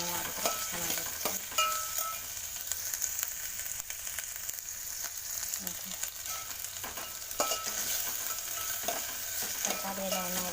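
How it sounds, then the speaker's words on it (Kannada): Chopped vegetables sizzle steadily in hot oil in a pan while a spoon stirs and scrapes through them, a continuous close frying hiss with occasional clatter and no speech. "ಸ್ವಲ್ಪ ಇದೆಲ್ಲ ಎಣ್ಣೆಯಲ್ಲೇ ಫ್ರೈ ಆಗಬೇಕು."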